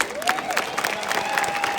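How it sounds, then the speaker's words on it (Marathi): Crowd at an outdoor wrestling bout breaking into applause and cheering, a dense steady patter of clapping with a high whistle-like tone running through it and a voice faintly over the crowd. "वाजवा की टाळ्या"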